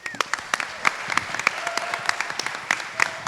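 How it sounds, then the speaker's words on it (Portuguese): Sparse, distinct hand claps ring out from an audience at a talk for young visionaries, scattered individual claps in an uneven rhythm rather than a full ovation, fairly close and moderately loud. "Vai, aplaude o cara."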